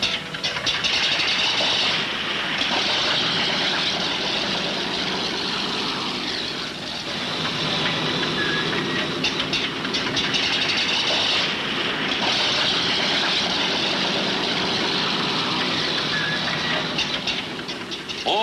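The six engines of a Consolidated B-36 bomber, nearly 23,000 horsepower together, rev up before takeoff. From on board they make a continuous heavy drone that swells and eases slightly over a long stretch, with no voices.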